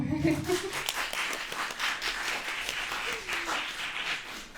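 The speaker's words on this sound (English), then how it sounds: "And you may clap." Audience clapping at a student union election question time for welfare and student activities candidates, a steady wash of applause from a modest crowd with a voice briefly audible at the start.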